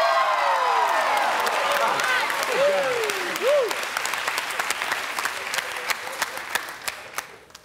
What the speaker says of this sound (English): Cal, you can clap all you want.